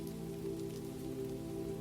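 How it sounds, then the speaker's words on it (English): Steady rain falls outside a café doorway beneath an awning in Provence, a dense, even patter close by with a faint low hum underneath and no voices. "looking out at the rain"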